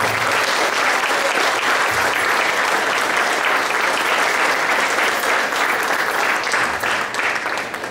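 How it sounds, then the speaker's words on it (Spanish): An audience at an academic symposium on economics and education, held at a Mexican university, gives loud, sustained applause, a dense unbroken roar of many hands lasting the whole stretch. "Fuerte el aplauso"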